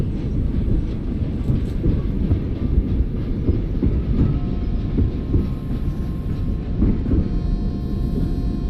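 Train wheels rumble and click steadily along the rails as a super fast express runs in a train simulator game, a loud, continuous low roar with faint rhythmic clatter and no voices.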